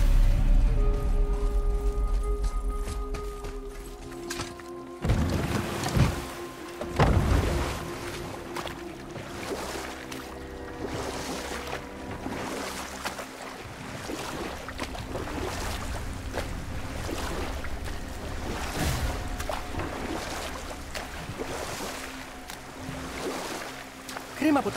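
A boat gliding across water in the God of War game, with steady lapping and sloshing under a low wind-like hum and background music, continuous and moderately loud, with occasional splashes.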